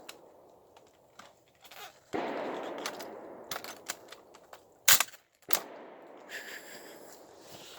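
Outdoor live-fire shooting of a Mosin Nagant M1891 rifle chambered in 7.62x54R, a few sharp cracks and clatter scattered across the clip, one especially loud shot near the middle, with quiet background movement between.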